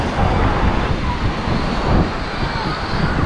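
Strong wind on a coast roars steadily across the microphone, a loud continuous rushing with heavy low rumble and buffeting throughout, strong enough to blow tents away.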